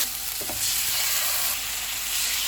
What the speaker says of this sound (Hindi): ऑयल गर्म हो गया है, चिकन के पीसेस रखेंगे।